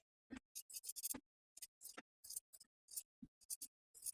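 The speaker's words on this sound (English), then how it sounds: "we'll trim the interfaced portion to about 1/4 inch" Fabric scissors trimming the interfaced seam allowance of a midi dress neckline: a quiet, close run of crisp snips in uneven bursts, with short pauses between groups of cuts.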